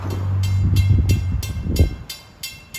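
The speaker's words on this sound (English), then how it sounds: "get one more train, 1958, Penn Station to Ronkonkoma" A Long Island Rail Road Ronkonkoma Line train passing near a grade crossing, with a close rhythmic clatter of wheels over rail joints and a fading rumble.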